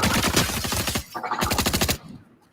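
Rapid bursts of automatic gunfire in a video game, loud and close, firing in two sustained volleys with a brief gap between them before cutting off.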